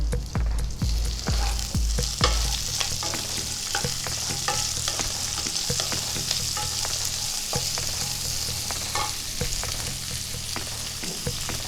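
Green peas tossed in hot ghee with cashews and raisins for Bengali ghee rice, a dense steady sizzle with frequent spoon scrapes and stirring knocks, close and constant with no voices.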